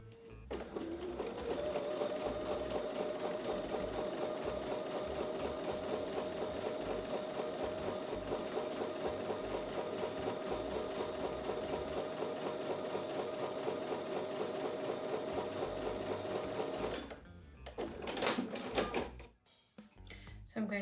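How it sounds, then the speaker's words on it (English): A sewing machine runs steadily, stitching a quarter-inch seam along both sides of a drawn line on quilt block fabric. It is a continuous, fairly close whir that lasts about seventeen seconds and then stops, followed by brief handling noises. "I'm going to take those back over to the sewing machine and sew a 1/4 inch seam on both sides of the drawn line."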